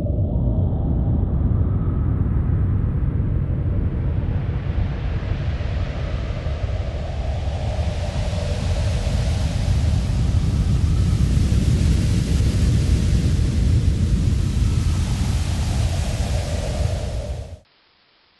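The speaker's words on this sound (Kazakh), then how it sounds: "Әрине, бұл желдің гуілінің дыбысы." Wind howls and roars in a loud, continuous rushing wash that swells slightly and stays steady for about seventeen seconds before cutting off abruptly.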